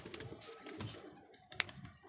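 Domestic pigeons in a loft coo softly in low, murmuring bursts, faint and close, with a sharp click near the end and no talking.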